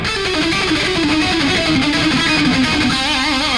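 Distorted rock electric guitar lick, every note picked, a rapid unbroken run of bright, loud notes heard alone and close by.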